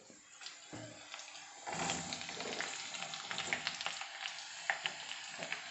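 Onion, green chilli and ginger fry in a pot for a spicy chicken curry, giving a steady close sizzle with crackling spatters and occasional stirring scrapes throughout, and no one speaking.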